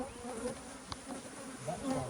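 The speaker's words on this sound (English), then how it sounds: "all the other bees are coming up here trying to rob the honey out of there" Honey bees swarm around an open hive during a split, other bees trying to rob the honey, a dense continuous close buzzing with individual insects whining past.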